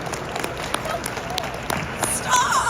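Audience applause at an anime convention voice actor panel in Houston, a steady patter of clapping with some cheering, heard fairly close and building slightly toward the end.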